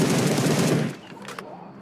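Rapid automatic gunfire in the mobile shooter BGMI, a dense close burst lasting about a second before cutting off into quieter game ambience.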